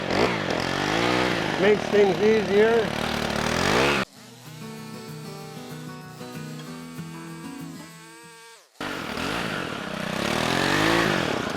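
A small chainsaw mounted on the end of a pole trims a tree at a property in The Villages, Florida. Its steady, buzzing engine drones for about five seconds between stretches of someone talking.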